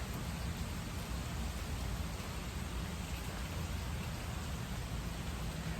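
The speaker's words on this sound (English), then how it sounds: "You're probably thinking, oh, it's just rain." Summer rain in Georgia falls in a steady, even hiss of drops on surfaces, soft and continuous with no distinct splashes or voices.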